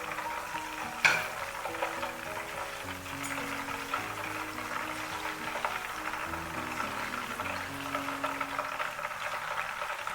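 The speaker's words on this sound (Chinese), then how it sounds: "再把鸡翅放到里面给它复炸一遍" Chicken wings refrying in reheated hot oil, a steady dense sizzle and bubbling that runs throughout, with a brief sharp clink near the start.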